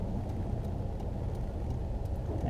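A car rolls to a stop in neutral while coasting, giving a steady low road and drivetrain rumble with faint ticks and no rising engine revs.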